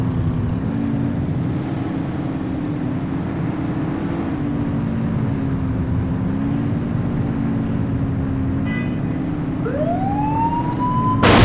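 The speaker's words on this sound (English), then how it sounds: "Turn that siren off. We don't need it on right now." A loud police siren in a video game wails continuously over a steady engine rumble, with a rising electronic tone near the end.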